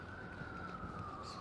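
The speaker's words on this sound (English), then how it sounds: "So you do hear sometimes lots of ambulances and stuff." Beside Central Park's Fifth Avenue edge near the Mount Sinai hospital in New York City, an emergency siren wails steadily at a distance, faint under constant city traffic rumble, with a voice murmuring in the background.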